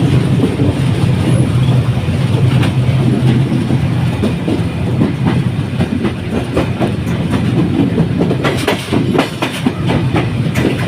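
Steady rumbling of a train ride near Parbatipur, Bangladesh, with continuous rail noise and rhythmic clickety-clack wheel beats over the track joints, loud and close throughout.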